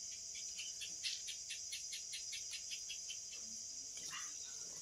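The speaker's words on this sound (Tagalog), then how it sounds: "Maririnig mo yung kuliglig ba yun?" Crickets chirp in quick, regular pulses against a quiet nighttime background on a mountain, faint and steady.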